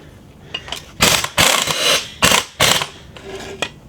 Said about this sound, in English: And we'll get my impact wrench.